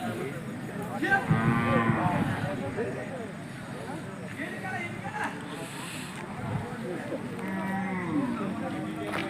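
Cattle moo a few times at moderate distance amid a busy outdoor crowd at a Hallikar cattle fair, with people talking throughout.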